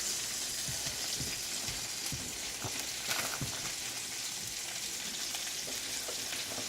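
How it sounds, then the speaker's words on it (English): Red onions go into a pan with bacon and fry with a soft, steady sizzle, a few light knocks and stirring sounds scattered through, fairly quiet and without talk. "And now I'm going to put in my onions."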